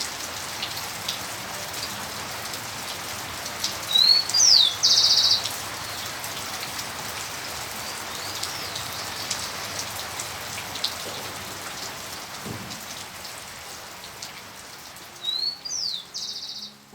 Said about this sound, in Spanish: Una calma lluvia de verano, cubierto bajo la vegetación, un chingolo vocaliza.